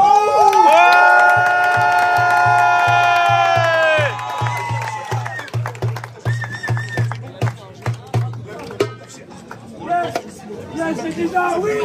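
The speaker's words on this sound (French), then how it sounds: "un tonnerre d'applaudissements pour un jeu trop con et un whoopi bleu" A crowd cheers and shouts with excitement at a fart game championship in Parthenay, loud and close, over a pulsing beat with sustained tones; the cheering then breaks into scattered shouts and chatter, with voices talking.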